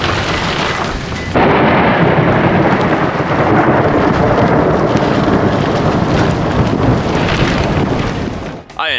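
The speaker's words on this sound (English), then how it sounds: "we've got a lightning storm blowing through this area" A thunderstorm with lightning sweeps over an open area, heavy rain roaring loudly and steadily with rumbling thunder for most of the stretch, then easing abruptly near the end.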